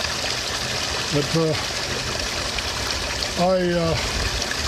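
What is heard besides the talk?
running spring water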